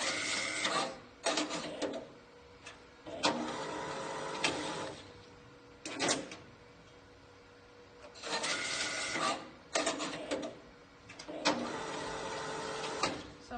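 An automatic banderole machine wraps printed postcards in a paper band, making repeated bursts of whirring, rasping mechanical noise separated by short pauses, close and loud with no talk.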